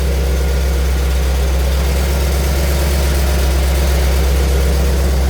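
A supercharged 1955 Chevrolet 3100 truck idles loudly up close, its deep, steady rumble holding unbroken and even from start to finish.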